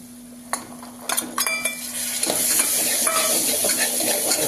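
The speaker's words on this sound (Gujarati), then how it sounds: "હવે ચણા આપણે અંદર નાખીશું।" Chickpeas tipped into sizzling masala in a pan for a desi chana curry, a few clinks and scrapes followed by a rising, steady loud sizzle.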